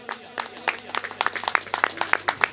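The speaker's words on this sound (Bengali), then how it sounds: "নূরও মঞ্চে এসছে, ওর জন্য একটা জোরে হাততালি হয়ে যাক।" Audience applause at a puja cultural programme greets an assistant named Nur coming on stage: a steady patter of many hands, moderately loud and slightly uneven, with no voices over it.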